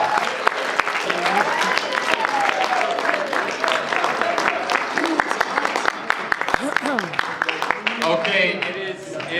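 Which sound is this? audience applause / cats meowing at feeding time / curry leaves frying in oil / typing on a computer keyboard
audience applause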